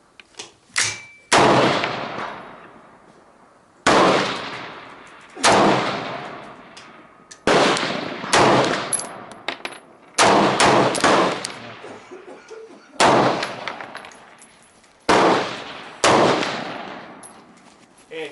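Rifle shots ring out at targets on a shooting range, about nine loud sharp cracks spaced a couple of seconds apart, each followed by a decaying echo, close to the listener with no talk.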